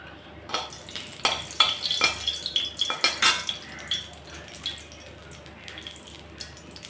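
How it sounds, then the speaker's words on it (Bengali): Mustard oil heated with two dried red chillies to temper boiled masoor dal, with a low sizzle under close, bright clinks and scrapes of a metal utensil against the pan. "দিয়ে দিলাম সরষের তেল, ফোড়নে দিয়ে দিলাম 2টা শুকনা লঙ্কা"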